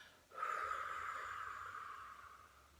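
A long, steady exhale during a guided meditation begins abruptly and trails off slowly over about two and a half seconds, soft and close, with no talking.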